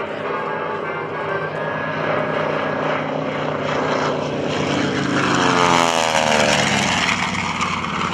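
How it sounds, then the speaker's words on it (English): A Grumman TBM Avenger's radial engine roars loud and close at an airshow, a deep throaty drone that swells steadily, with a rising whine near the end. "Great to hear that sound, that deep, throaty sound of the radial engine."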